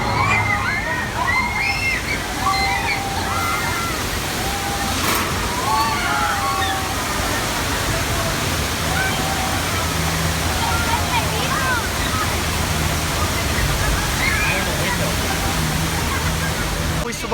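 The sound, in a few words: water gushing from broken water main, Universal Studios tour effect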